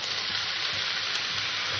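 Vegetables such as potato, pumpkin and broad beans with salt, turmeric and tomato sizzle steadily in a pan, a constant hissing fry with faint low stirring scrapes, no talking.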